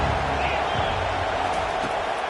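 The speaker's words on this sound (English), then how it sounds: "listen to this crowd roar" A dense, continuous crowd roar fills a football stadium, loud and unbroken throughout, with no clear pauses or individual voices standing out.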